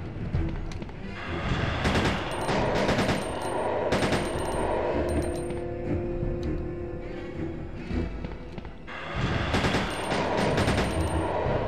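Pistol gunfire in Resident Evil 2 (1998), sharp repeated shots in bursts at about 2, 3, 4 and 10 seconds, with game ambience between.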